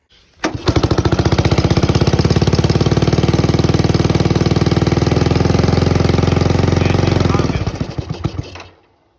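A Suzuki quad bike with electrical problems starts up and runs loud and close for about seven seconds, with a rapid, rattling engine beat, then cuts off and sputters to a stop.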